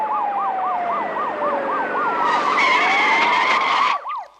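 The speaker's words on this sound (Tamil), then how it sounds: "நம்ம வண்டிக்கு முன்னால போற போலீஸ் ஜீப்ல இருந்து வர்ற சத்தம் தான் சார்." Police jeep siren wailing in a fast repeating up-and-down warble, loud and close, joined by a second sliding tone and brief rattling midway before cutting off abruptly near the end.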